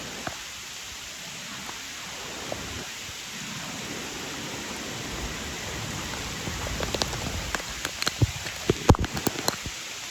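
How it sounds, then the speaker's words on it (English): Heavy rain pours steadily by a river in Jamaica during Hurricane Beryl, a dense continuous hiss with distant rumbling, joined near the end by sharper nearby drops and patters. "the rain is falling really hard"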